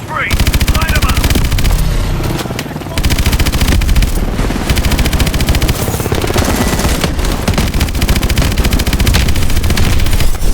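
Sustained heavy automatic gunfire in the shooter game Call of Duty: Advanced Warfare, loud continuous rattling bursts with a brief break near the start, layered over dense combat noise.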